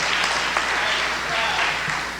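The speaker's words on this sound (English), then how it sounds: "let's give these brothers a round of applause" An audience at a lecture hall event gives a round of applause, a continuous dense crackle of many hands clapping at moderate loudness with a voice speaking over it.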